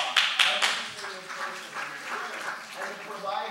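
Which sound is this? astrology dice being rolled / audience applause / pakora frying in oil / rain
audience applause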